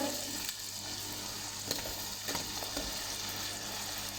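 Chopped tomatoes fry in oil in a pan for a mixed potato, carrot and pea sabzi, giving a steady close sizzle with a few faint stirring knocks and no talking.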